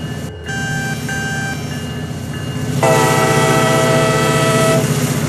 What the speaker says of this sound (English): That's a double horn